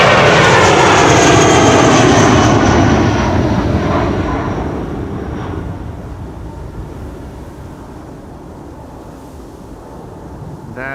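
A KLM cargo jet rolls for departure at Amsterdam Schiphol, its engines roaring loud and close before fading steadily into the distance, with a breath of wind across the microphone.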